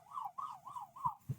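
Ambulance siren passing at moderate distance, a wailing tone rising and falling in four even sweeps, with a couple of low thumps at the end, heard on a beach in Thailand.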